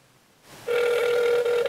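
Cell phone call ringing through with a cell phone booster, a single steady ringback tone that starts after a short quiet gap and holds to the end.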